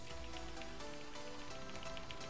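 Healing Rain, a spell effect in World of Warcraft, falls as a steady, faint patter like rain on a surface throughout a raid fight against the Sha of Pride, with no voices.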